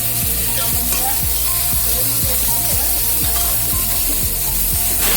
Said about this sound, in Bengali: এবার তেলের মধ্যে দিয়ে দিলাম টমেটো কুচি, আদা কুচি, লঙ্কা এবং পেঁয়াজ কুচি